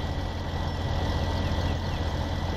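Tractor engine in Farming Simulator 17, a loud, steady low rumble droning continuously close up with no break.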